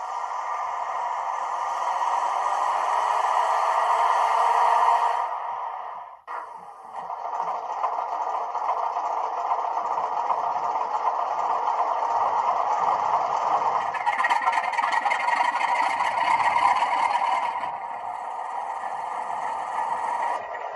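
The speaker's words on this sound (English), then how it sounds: "There's also an enhanced startup sequence" Hornby Class 47 D1670 "Mammoth" model diesel locomotive running its enhanced startup sequence: a steady droning engine hum that cuts out briefly, then restarts and settles into a continuous idle with a rising rev partway through, close and alone.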